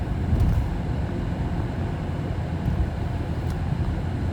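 Exhaust of a 2015 Ford Edge cruising on the highway, a steady low droning rumble mixed with road and wind noise that holds at an even level throughout.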